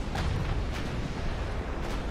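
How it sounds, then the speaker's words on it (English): Torpedoes striking battleships in a naval video game, heavy overlapping explosions and booming rumble filling a short stretch, loud and close with no talking. "Yep, those are torpedoes."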